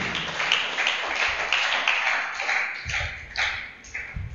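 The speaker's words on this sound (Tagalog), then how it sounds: "Palakpakan natin ang ating Panginoon." Scattered applause from a church congregation honoring the Lord during a sermon, thin and uneven clapping that fades in and out at a moderate distance.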